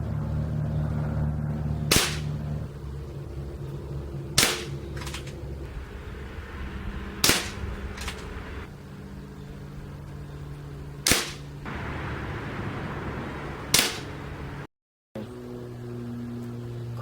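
A Crosman M4-177 variable pump air rifle fires pellets during a target test, five sharp isolated cracks spaced a few seconds apart over a quiet background hum, with a short gap of silence near the end.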